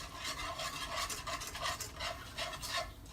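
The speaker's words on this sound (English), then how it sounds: "So I whisk this around" Brown rice flour whisked in a bowl, a steady scraping, rasping swirl repeating in quick strokes, close and fairly quiet with no voices.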